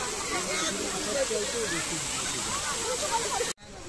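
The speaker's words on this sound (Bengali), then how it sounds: "এই যে ফোয়ারা, ভীষণ সুন্দর লাগছে দেখতে" A park fountain splashes and hisses steadily at close range, with a voice talking over it, before the sound cuts off abruptly just before the end.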